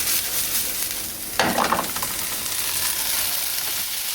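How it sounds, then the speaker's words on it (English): Steady sizzling and hissing of meatballs frying in a pan, with a brief louder burst of crackle as it's shaken, no voices. "Give it a big shake, and we're cooking our meatballs"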